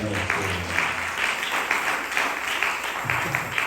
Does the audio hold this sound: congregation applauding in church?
yes